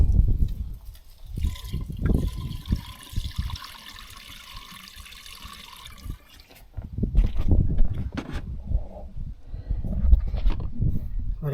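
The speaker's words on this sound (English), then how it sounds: "I've already poured a little bit of coolant in it, so let's pour a little more" Coolant poured into a truck engine during a repair, a steady gurgling pour with splashing bursts, close and fairly loud, lasting several seconds before pausing and resuming.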